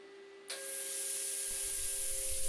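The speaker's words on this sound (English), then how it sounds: "My plasma cutter is just a cheap Chinese unit that I bought off eBay" A cheap Chinese plasma cutter fires up with a sudden sharp hiss and a steady high whine, cutting into steel with a continuous loud spray of air.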